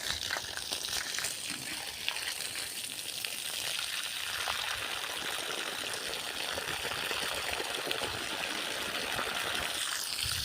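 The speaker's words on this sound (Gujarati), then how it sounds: "પાણી પડી રહ્યા છીએ" A steady, loud rush of water spraying from a hose nozzle onto coconut palms hisses on without a break, close by.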